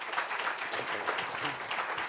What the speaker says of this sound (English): can we have a round of applause and thank our guests?